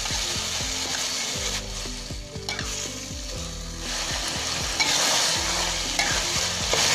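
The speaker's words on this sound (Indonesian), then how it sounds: "Selanjutnya ini saya tambahkan pete. Kita masak sebentar ya, supaya petenya ini masih krenyes-krenyes." Petai stink beans stir-fried with eggplant and tofu in a pan, a steady loud sizzle broken by repeated scraping stirs of the spatula, no voices.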